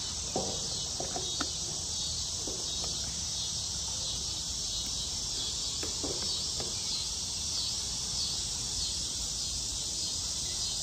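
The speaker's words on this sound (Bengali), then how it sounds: "পার্কের মধ্যে ঝিঝি পোকার ডাক।" Crickets chirp in a park at sunset, making a dense, continuous high-pitched trill that holds steady throughout, with a few faint knocks and scattered distant sounds beneath it.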